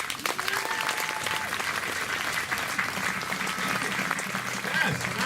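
A concert band audience at a Memorial Day event applauds music educators with steady, dense clapping and crowd murmur throughout, fairly loud with a faint voice at the end.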